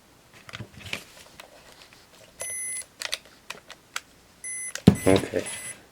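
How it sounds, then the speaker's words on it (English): An Olympus XA2 35mm film camera's self-timer gives a few short electronic beeps that grow faster and change pitch, among quiet handling clicks and taps, ending in a louder mechanical click and rattle. "beeping, and we see the little red light, and we'll hear the pitch change too"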